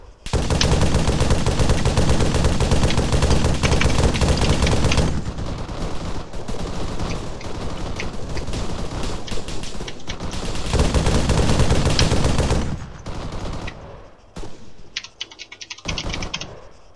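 Heavy machine gun fire rattles in a military video game, a loud, continuous burst of rapid shots for about twelve seconds before breaking into shorter, scattered volleys.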